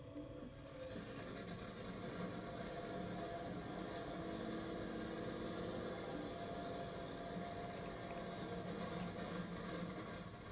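A nitro-fueled funny car drag racing engine fires up after a second of quiet and holds a loud, steady, rough broadband roar, close by, with no talk.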